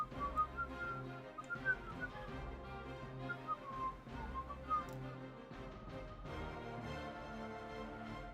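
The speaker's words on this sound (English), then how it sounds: "you hear me whistling?" A person whistles a wandering melody of short and sustained notes, with a few brief clicks and soft background noise.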